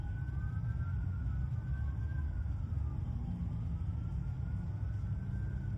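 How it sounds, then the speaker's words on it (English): Sirens wailing in the background, a faint rising and falling electronic tone sweeping slowly over a steady low rumble of distant traffic, no talking. "The sirens are still going on in the background."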